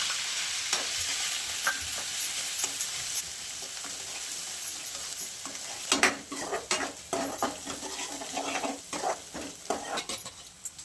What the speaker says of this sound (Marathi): अद्रक, खोबरं नाही का, कोथिंबीर, हिरवी मिरची जे कुठलेलं आहे ना ते आपण हे तेलात परतून घेणार आहे